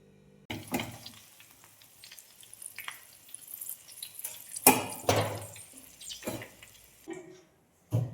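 Homemade herbal hair oil ingredients simmering in a pan on a gas stove, crackling and sizzling in irregular bursts, some louder pops, with brief quiet gaps.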